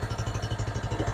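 Car engine idling with a misfire, a steady low pulsing rumble with an uneven, lumpy beat, close up and alone.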